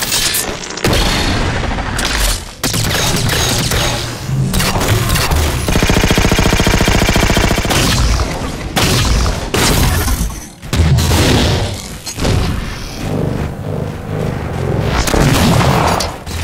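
Weapons fire in the shooter game Halo 4, a loud dense barrage of booms and rapid shots with a sustained buzzing stretch in the middle and brief drops between bursts.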